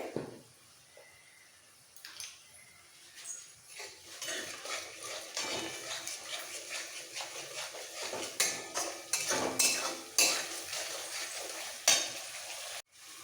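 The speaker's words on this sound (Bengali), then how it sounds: "সামান্য একটু রেড চিলি পাউডার এবার একটু কষিয়ে নিতে হবে ভালো করে" Potatoes and pointed gourd sautéing with red chilli powder in a pan, a soft sizzle under repeated scraping and knocking of a spatula, irregular and close, with no talk.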